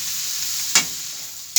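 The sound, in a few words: soy sauce sizzling in hot pan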